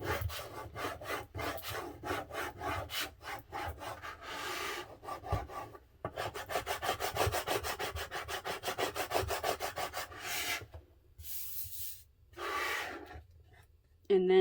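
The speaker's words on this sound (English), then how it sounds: "now I'm just using my scraper to just scrape that on, make sure everything's nice and neat and is adhered well" A plastic scraper is rubbed firmly over a layered vinyl decal to press it onto a surface, producing repeated close scraping strokes in quick bursts, broken by brief pauses, with a few quieter gaps near the end.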